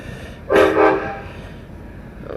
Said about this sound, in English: there's the train going by.